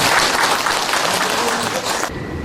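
Audience applause at the close of an autumn academic conference on Nammyeong thought at Seoul National University, a dense, steady wash of clapping from a large room that carries on throughout and cuts off sharply near the end.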